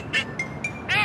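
A cartoon duck quacks in a children's animated Halloween episode, giving a quick series of four nasal, squawky quacks, close and fairly loud.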